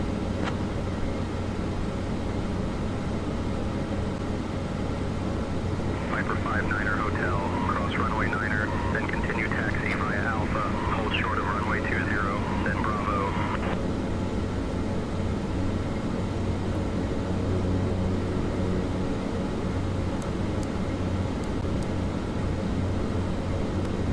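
A Piper Malibu Meridian P46T turboprop hums steadily at low power while taxiing in Microsoft Flight Simulator 2020, with a faint warbling radio-like tone partway through and a speaking voice over the engine.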